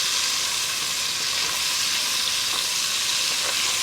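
Onion and garlic frying in a pan as aromatics for Italian braciole, a loud, even, continuous sizzle with faint stirring touches and no voices.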